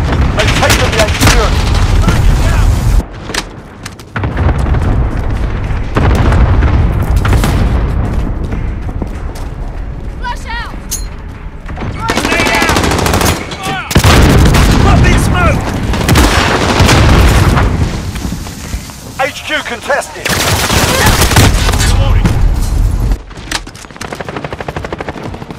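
Constant heavy gunfire and booming explosions from the video game Call of Duty Modern Warfare 2019 fill a battle over an HQ objective, with rapid automatic bursts, grenade blasts and a cluster strike, loud and dense throughout while in-game voices shout callouts.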